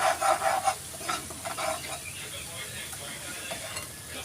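Onion paste sizzles and is stirred in hot oil for a cashew curry, with loud crackling and scraping at first that settles into a quieter, steady frying hiss.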